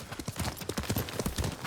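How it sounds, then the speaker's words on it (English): A horse gallops in the Ghost of Tsushima video game, quick rhythmic clip-clop hoofbeats close and loud throughout. "Horse!"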